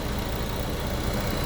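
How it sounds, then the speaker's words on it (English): A 2010 Mazda 3 engine idles steadily and smoothly, a continuous close mechanical hum with no talk over it. "Shot of the motor running."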